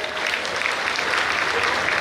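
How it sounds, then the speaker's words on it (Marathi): Audience at a Shri Chakradhar Swami religious festival gathering claps steadily, a dense, continuous wash of applause filling the space from start to finish. "सर्वांनी टाळ्या वाजवा एकदा."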